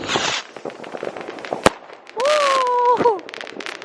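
New Year fireworks burst outside in a sharp loud crack, followed by steady crackling pops and a brief rising whistle-like tone, while excited voices cheer in the background.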